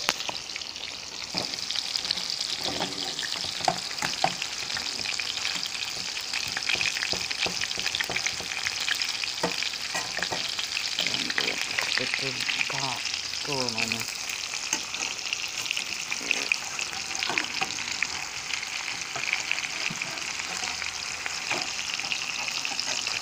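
Salisbury steak patties frying in a pan, cooked like hamburgers, with a dense continuous sizzle and crackle that holds steady and close throughout, with occasional scraping underneath.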